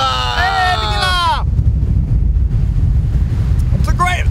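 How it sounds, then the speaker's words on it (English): Strong wind buffeting the microphone in a continuous low rumble, with a burst of excited shouting at the start and faint voices near the end. "It's very windy today."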